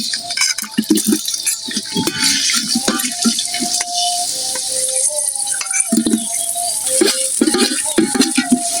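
Onion dropped into hot oil in a pan while cooking chicken biryani, a loud continuous sizzle and crackle with rattling stirs and utensil clinks, close and busy throughout with no voices.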